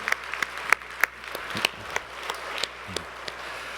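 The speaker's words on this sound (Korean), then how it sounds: "우리 하나님께 큰 영광의 박수를 올려드리겠습니다" A church congregation gives sparse, light applause after a New Year awards presentation, with scattered individual claps rather than a full ovation, fairly faint in a reverberant hall.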